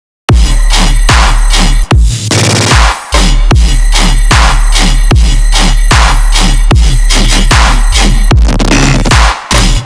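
Warped, time-stretched tearout sustain bass loops pound loud and distorted in repeating rhythmic hits, with gritty screaming mid-range texture and brief gaps, with no voices.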